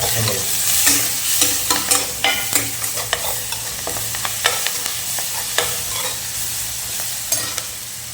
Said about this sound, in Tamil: ஸோ கருவேப்பிலை போட்டாச்சு